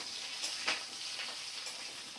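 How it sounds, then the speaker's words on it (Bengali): Eggplant and potato fry in hot oil, a soft, even hiss with a couple of faint stirring scrapes over about two seconds. "গরম গরম তেলের মধ্যে সুন্দর করে বেগুন আমি আলু বেগুন ভাজা করে নিচ্ছি"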